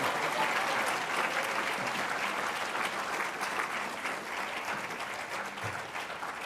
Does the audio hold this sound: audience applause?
yes